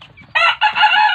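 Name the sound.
native chickens and rooster crowing on a farm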